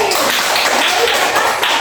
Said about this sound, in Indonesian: Tepuk tangan untuk Boy